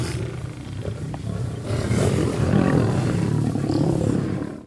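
A lion fights a Cape buffalo in the wild, with a loud, rough roaring and growling that swells through the middle. Heavy scuffling and grunting noise runs underneath, and no one speaks.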